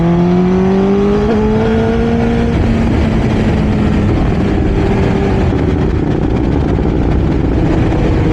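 Honda CBR1000RR sportbike ridden in traffic, its inline-four engine revving up through a climbing tone and then holding a loud, steady drone close by, with no talk.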